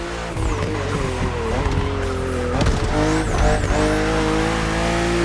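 Engines of BMW race cars in The Crew Motorfest racing game roar continuously on a narrow, twisty track, with rising and falling revs, gear shifts and tire squeal through the bends, loud and steady.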